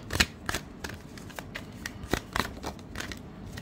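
Tarot cards being shuffled by hand at close range, a quick series of soft riffling snaps and flicks in an uneven rhythm, quiet and without talk.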